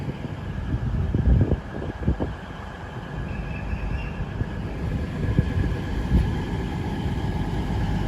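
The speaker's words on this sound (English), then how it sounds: "I'm at Durham train station, Ian." Platform ambience at Durham train station, a small two-platform station, with a steady rumbling wash of rail and wind noise and a few brief knocks near the start, without talking.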